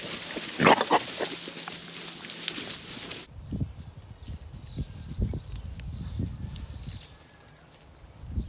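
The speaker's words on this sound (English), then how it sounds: "Putting pigs out on grass or pasture is always entertaining" Young pigs turned out onto grass pasture grunt and oink in short, scattered bursts, with rustling movement and a steady outdoor background throughout.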